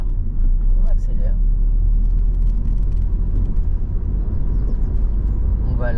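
Car engine pulling away and accelerating during a driving lesson, a steady loud rumble from inside the cabin, with an instructor's voice talking over it.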